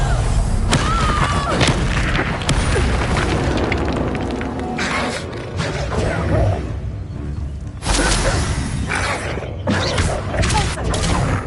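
Fire spell explosions in the Hogwarts Legacy video game, a dense, loud, continuous mass of booms, whooshes and crackling blasts with several sharp surges, the combat din never dropping away.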